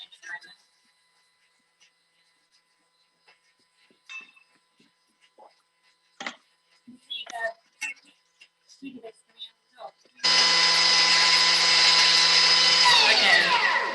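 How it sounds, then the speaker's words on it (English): A Thermomix grinds plain granulated sugar into icing sugar at speed 10, a loud sustained high whirring roar that starts abruptly after a stretch of quiet talk and light clatter, then winds down at the end. "So this will turn this just plain granulated sugar into the icing sugar."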